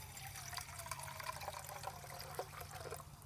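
Water poured into a cup at a bushcraft hammock campsite, a steady trickle and splash that is fairly faint against outdoor background noise and low hum, with no talk.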